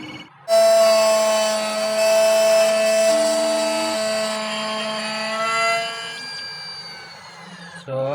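Key cutting machine duplicating a Hyundai Tucson flip key: a steady, loud, high-pitched motor whine with grinding as the blank is cut, shifting slightly in tone and winding down at the end, close and continuous.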